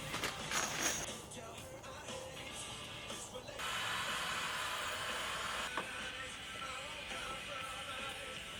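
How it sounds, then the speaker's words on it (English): Heat gun blowing hot air during a van build plumbing install: steady airy hiss that switches on partway through and holds at moderate level, after some earlier clicks and handling noise. "that was the first time I used a heat gun"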